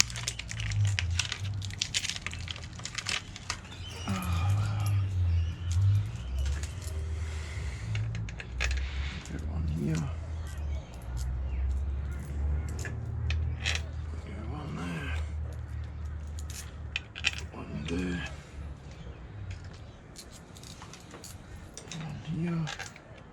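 Metal bolts and washers clink and rattle in irregular bursts as they are handled during a water pump install on a Ford 351 Cleveland engine, quiet and close, with someone talking over part of it.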